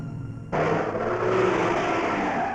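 A car drives close by, its engine noise surging in suddenly after a quieter moment and holding as a steady, loud whooshing rumble, with no talk.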